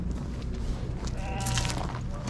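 Sheep and lambs bleat at an open livestock bazaar among other animals, and the calls overlap in a dense, noisy crowd of sound. A few bleats stand out near the end.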